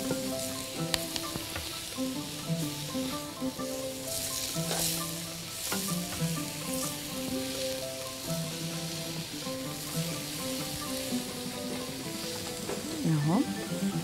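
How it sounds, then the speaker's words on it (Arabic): Chicken and mushrooms sautéing quickly in oil: a continuous close sizzle with frequent stirring scrapes and spits, holding a steady level throughout. "تسويحة حلوة وسريعة، بصوا بقى جماله."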